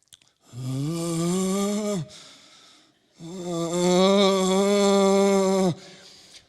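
A man imitates his own guttural, fearful reaction to seeing a spider with two long, strained, throaty groans, separated by a short breathy pause.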